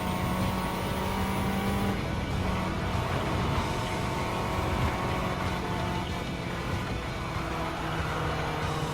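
Racing car engines roar continuously in Gran Turismo 7, a Citroën DS3 2011 among them, loud steady engine drone with shifting pitch as cars overtake on a French course.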